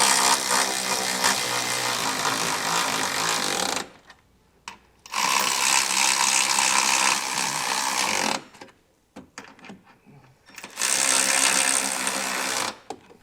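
Impact tool driving trailer hitch bolts on a 2022 Nissan Pathfinder during a Curt receiver install, heard as three long, loud buzzing bursts separated by short pauses and brief clicks, with no talk.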